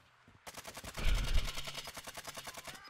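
Rapid automatic gunfire in the Warzone 2 video game, a dense burst of repeated shots starting abruptly and running steadily to the end, loud and close with a heavy booming onset.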